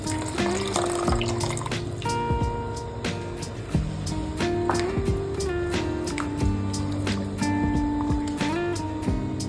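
Annatto (atsuete) liquid is poured into a pot of oxtail kare-kare: a steady watery pour with kitchen clinks and a faint background hum, fairly close and with no talk.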